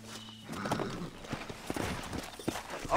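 Hooves of a horse walking in the Red Dead Redemption video game, an uneven clip-clop of soft, fairly faint steps at a slow pace, with no talk over them.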